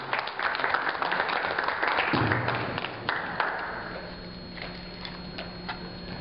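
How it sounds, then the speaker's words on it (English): Audience applause greeting a speaker introduced at a panel discussion, a dense patter of clapping that fades into scattered claps, with a faint voice underneath. "Let's have a round of applause"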